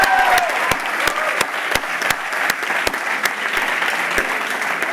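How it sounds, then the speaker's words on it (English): A graduation audience at a bachelor's ceremony applauds steadily, dense hand-clapping from a large crowd filling the hall, loud and continuous with a few sharper individual claps standing out. "what an outstanding performance in the applause and clapping today"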